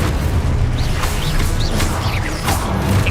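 Incendio fire spell in the Hogwarts Legacy video game: steady roaring, crackling flame bursts with whooshes, thuds and small pops layered over one another, loud and continuous with brief tonal chirps of combat effects.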